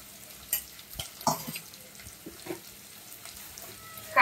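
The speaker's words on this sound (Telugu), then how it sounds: "ఇప్పుడైతే నేను ఇందులోకి జింజర్ గార్లిక్ పేస్ట్ వేస్తున్నాను." Chicken frying in oil in a home kitchen as ginger garlic paste is added, giving a low steady sizzle with a few stirring clatters and scrapes, ending in a sharper burst of sizzle.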